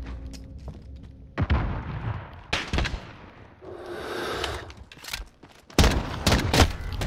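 Gunfire in a shooting video game, with several loud, sharp bursts of shots separated by quieter stretches of in-game noise.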